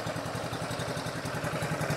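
Motorcycle engine idling through a Silent Killer power pipe exhaust, a steady rapid low pulsing throb with a faint mechanical clatter, close up and without talk.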